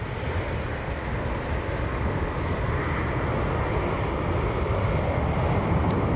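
An airplane departing Manchester Airport during a long takeoff roll, a loud, steady, rumbling jet roar with wind buffeting, sustained without a break and no voices.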